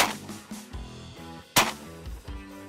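Two sharp shotgun blasts about a second and a half apart ring out during a late-season duck and goose hunt, each loud and close with a quick fading tail.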